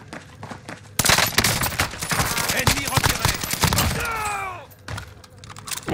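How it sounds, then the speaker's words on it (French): Heavy gunfire in Call of Duty Warzone on Fortune's Keep, erupting suddenly into loud rapid automatic bursts and cracking shots, easing off briefly before resuming, with a voice speaking now and then. "On me tire dessus."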